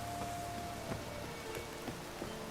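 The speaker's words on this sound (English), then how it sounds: "It's raining again." Steady light rain in the video game The Witcher 3: Wild Hunt patters continuously with a few scattered drips standing out, soft and even throughout, with no voices.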